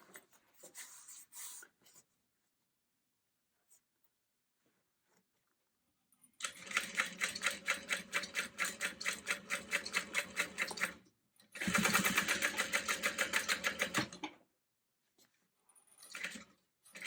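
A domestic sewing machine back stitches over a key grabber on a Boronia Bowler bag, running in two loud, steady bursts of rapid stitching separated by short pauses, with quiet handling noise before and after.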